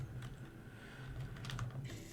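A short burst of quick, close computer keyboard clicks during a Space Engineers game session, fairly quiet with no one speaking.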